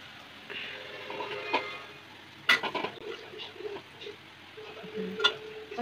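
Onion and capsicum frying together in a pan, a steady sizzle with occasional clinks and scrapes of stirring, close and fairly quiet.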